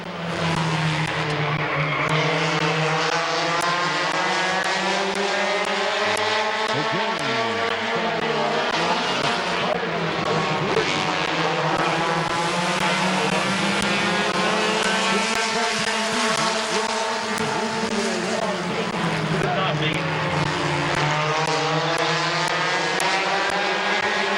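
Compact heat race cars roar around Midvale Speedway in a loud, continuous engine drone, with pitch rising and falling as the cars pass close by.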